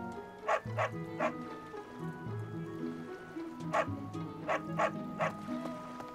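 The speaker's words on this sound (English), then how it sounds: "Oh my gosh, I can't pet the dog?" Dog barks and yips from a dog or wolf companion in the Fire Emblem: Three Houses video game, several short sharp barks in two clusters over steady background game music.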